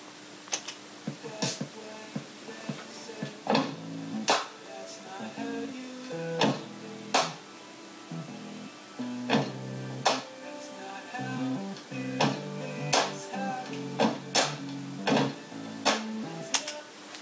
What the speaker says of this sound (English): just lots of clumps and thumps and claps and clangs and things like that